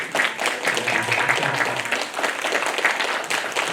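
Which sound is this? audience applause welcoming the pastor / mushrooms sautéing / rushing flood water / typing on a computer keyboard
audience applause welcoming the pastor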